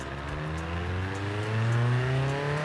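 A car engine built in the Automation tycoon game revs steadily and loudly, its rising harmonic drone climbing gradually in pitch before settling, with no talking over it.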